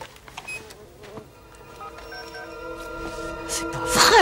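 Killer bees swarming in a 1995 film, a rising insect buzz that builds steadily louder over a few seconds and swells sharply at the end, with faint background sounds and no clear speech.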